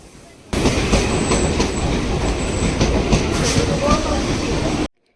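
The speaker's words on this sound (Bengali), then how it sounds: "তো এই যে দেখো ট্রেন ঢুকে গেছে" A crowded train pulls into a station with a loud continuous rumble and rattle of wagons, clacking wheels and faint squeals, close by, then cuts off abruptly.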